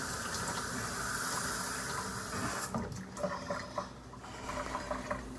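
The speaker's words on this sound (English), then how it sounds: "I'm going to go wash my hands." Tap water runs steadily into a sink while hands are washed, a close continuous rush that eases and turns splashier near the end.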